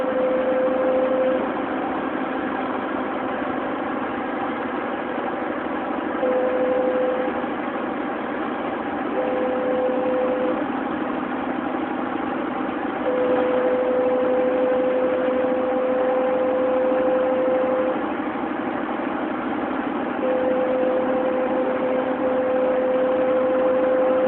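A very long train passing by, a steady low rumble and engine drone that holds even throughout, with a faint intermittent tonal whine and no talking.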